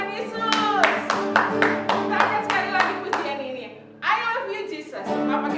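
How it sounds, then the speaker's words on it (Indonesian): Children and adults clap hands in a steady rhythmic beat during a Sunday school worship song, the claps loud and close, with singing voices running underneath and a brief pause before the clapping resumes. "mari kita tepuk tangan untuk Tuhan Yesus"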